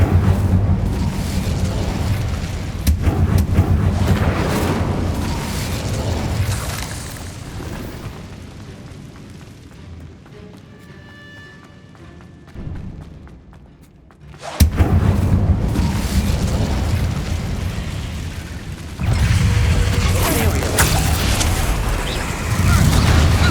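Booming, crackling blasts of an Incendio fire spell in Hogwarts Legacy, heavy rumbling bursts in dense clusters with a quieter lull in the middle before the explosions surge back loud and close.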